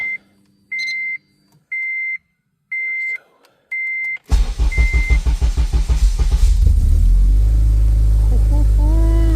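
Five evenly spaced electronic chimes sound, then a supercharged 2006 Honda Civic Si K20Z3 engine cranks with rapid chugging and catches, settling into a loud, steady running rumble.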